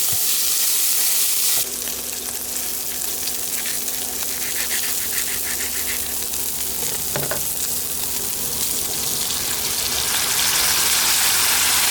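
Pork stir-frying in a wok for Korat-style fried rice noodles, a steady loud sizzle with scraping stir strokes running throughout and no talk.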